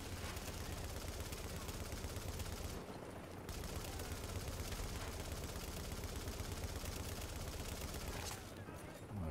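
Heavy, dense gunfire in the video game The Division, a nearly continuous roar of rapid shots with brief lulls, fairly faint overall.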